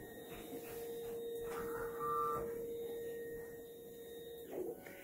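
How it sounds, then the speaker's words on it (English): A panoramic dental X-ray unit shifts into patient-ready mode, giving off a steady mechanical hum with a short beep near the middle and a brief clatter of motion toward the end. "This will allow the machine to move into proper patient ready mode."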